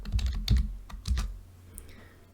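A computer keyboard tapped while drafting in AutoCAD LT, a few close, quick keystrokes in a short burst that fades into quiet.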